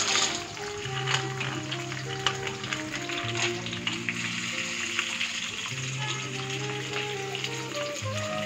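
Peanuts and coconut pieces fry in hot oil, giving a continuous close crackle and sizzle. A steady musical tone plays underneath.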